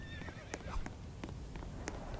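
Horses in a video game whinny and neigh while hooves clip-clop in scattered sharp beats, fairly faint against a dense noisy background.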